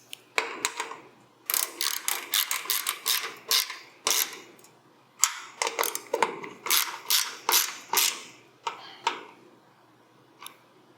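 Clusters of quick ratchet clicks come close and sharp in bursts with short pauses as a fastener is snugged down during a dash install.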